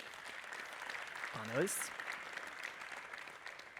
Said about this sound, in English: So give a round of applause to our speakers,